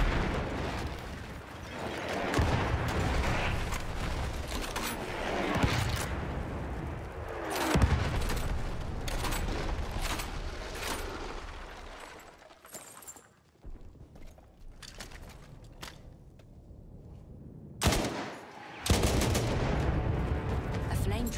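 Battlefield 1 combat, with repeated booming artillery barrage impacts and bursts of gunfire rising and falling over about twenty seconds, a brief lull midway, and occasional voices mixed in.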